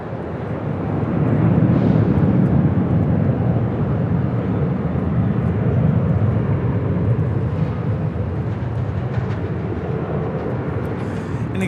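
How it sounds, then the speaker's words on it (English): A Southwest Boeing 737-700 airliner at Los Angeles International Airport, heard from the ramp as a loud, steady jet engine roar that swells in the first seconds and then holds a broad, sustained rumble throughout. "2702 coming in from Austin on a 737-700."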